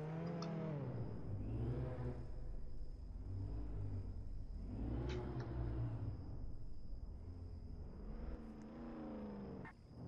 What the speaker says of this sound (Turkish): Peki, arabaları park edin.